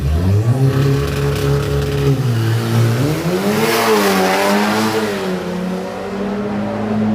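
Tuned Audi cars at a drag race day rev hard and accelerate, a loud, close engine roar whose pitch climbs, wavers and climbs again over several seconds, with no talk.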